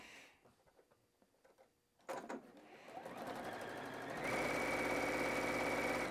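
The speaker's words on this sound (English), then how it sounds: "as I finish up this fourth side, again, I'm just going to sew off the end" A domestic sewing machine with automatic presser-foot lift and needle-down stitching the fourth side of a quilt block, starting with light clicks, then a steady mechanical whir that rises to a continuous, even hum.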